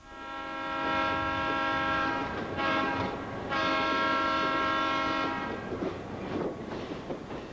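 An Amtrak passenger train between Washington and New York rumbles past nearby while its horn blares in long sustained blasts, with rail clatter continuing underneath as the horn fades.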